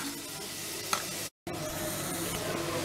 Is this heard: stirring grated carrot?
yes